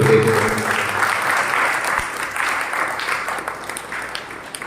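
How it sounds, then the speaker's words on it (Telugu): A church congregation applauds the priest after Mass, dense sustained clapping from many hands that fills the room and slowly thins out. "అందరం కూడా చప్పట్లు కొడుతూ"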